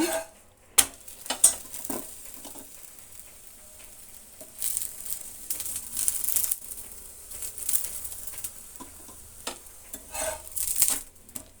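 A roti frying in ghee on a pan over half flame, with a low sizzle and intermittent scraping and tapping as it is turned and pressed, close and fairly quiet, with no one speaking.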